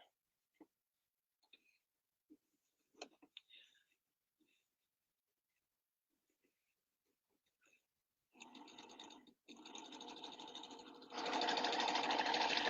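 A sewing machine fitted with hemmer and feller feet stitches a thread chain, starting after faint handling clicks, then running in a steady buzzing whir that gets louder and faster near the end.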